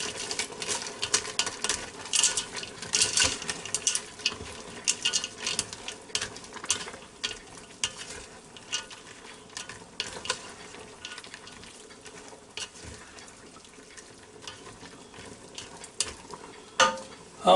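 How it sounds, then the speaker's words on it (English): Egg noodles, shrimp and sausage stirred in a Ninja Foodi Deluxe pot, with irregular scraping, clinking utensil strokes and a wet sizzling, bubbling bed continuing throughout at close range. "Give them a quick stir."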